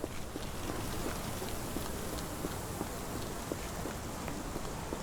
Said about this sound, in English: This dreary rain is making a miserable day even worse.